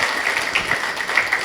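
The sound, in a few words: audience applause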